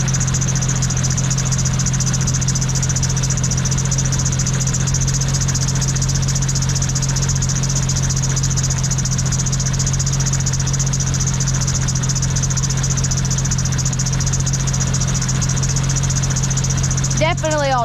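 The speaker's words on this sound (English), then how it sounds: "Pretty sure that's the alternator." Jeep YJ with a 4.0 engine running at a close, loud, steady idle, with a constant high whine from the alternator riding over the low drone, and a brief voice near the end.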